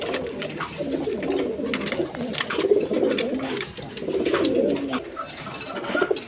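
Pigeons kept for sale at a breeding loft give repeated low, throaty coos in overlapping rolling phrases, close and fairly loud, with soft rustling between calls.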